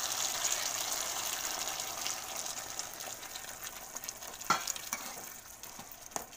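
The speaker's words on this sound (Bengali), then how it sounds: "বন্ধুরা, এতে আমি একটু জল দিয়ে দিচ্ছি।" Water is poured into pointed gourd frying in a pan for potol posto, bringing a steady hiss and bubbling with a few sharp utensil knocks near the end, close and continuous.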